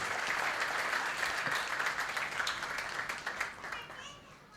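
Audience applause at a community comedy event held by a youth association in Mumbai, a dense, steady wash of many hands clapping at moderate loudness that thins slightly toward the end.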